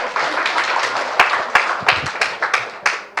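Audience applause at a church meeting: a dense wash of clapping that fades into a few scattered, sharp individual claps.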